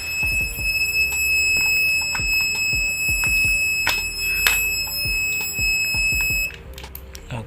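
An electronic alarm buzzer on a SCADA-controlled lighting and power setup sounds continuously with a steady high tone, then cuts out abruptly after an iron is unplugged, with some clicking and knocking in the background.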